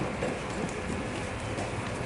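Horse hooves clop along soft ground during a riding lesson, a steady walking rhythm of muffled footfalls under a constant outdoor background.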